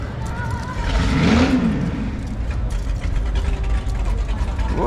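A car engine revs at a Kenosha classic car show of Buicks, a loud swelling rumble that rises and falls once near the middle amid steady crowd and mechanical background noise.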